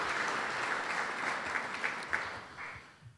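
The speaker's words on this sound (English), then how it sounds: "let's also give a round of applause for the tireless work of the Chamber staff" Steady audience applause for the Chamber staff at a Chicago business community event, a full sustained patter of many hands clapping, moderately loud and thinning out toward the end.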